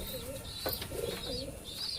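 Pigeons kept loose in a cage or loft coo in repeated soft, throaty phrases, several birds calling close by with no one talking.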